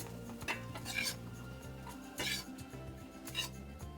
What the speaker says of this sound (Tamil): ஸ்டவ் ஆன் பண்ணிவிட்டு நான் பவுலுக்கு மாற்றிக்கிறேன்